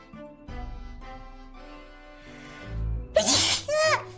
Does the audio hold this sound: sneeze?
yes